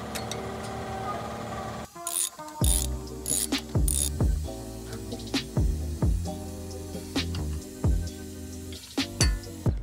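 Quick metallic ratcheting clicks and sharp clanks from loosening the 12 mm brake line bolt on a 2018 Subaru WRX during a coilover install, close and fairly loud, in irregular bursts with brief pauses.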